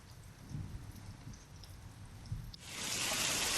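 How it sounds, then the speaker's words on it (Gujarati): Heavy rain with thunder in Chhota Udepur district, a soft patter and low rumble at first, then a sudden loud, dense downpour that rushes steadily close by. "છોટાઉદેપુર જિલ્લામાં વહેલી સવારથી ગાજવીજ સાથે ધોધમાર વરસાદ પડ્યો."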